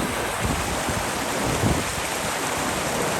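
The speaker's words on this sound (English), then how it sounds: "a little waterfall going right there" Small waterfall below Red Castle in Utah's High Uintas, a steady broadband rush of falling water that runs unbroken and fairly loud throughout, with no voices over it.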